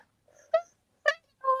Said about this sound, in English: Or the meow.